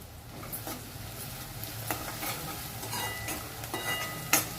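Onions frying in a pan with salt, sizzling steadily while a spoon scrapes and stirs them in several distinct strokes, close and alone with no talking.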